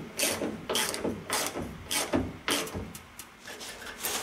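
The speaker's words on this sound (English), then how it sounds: "Now, let's bolt this in." Close ratchet clicking as a bolt is driven in the trunk of a 1964 Thunderbird, in quick bursts of rapid pawl clicks repeated about seven times with short pauses between strokes.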